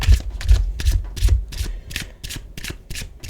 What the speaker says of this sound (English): I'm going to get some of these romance and love oracle cards